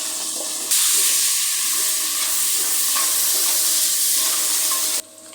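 Bean seeds hit hot oil in a pan where a fish head was just fried, bursting into a loud, close, continuous sizzle that cuts off abruptly, with no talking.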